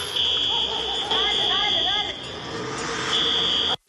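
An alarm at a supermarket in north Quito sounds in long, loud, steady electronic tones broken by short gaps, with a voice talking underneath.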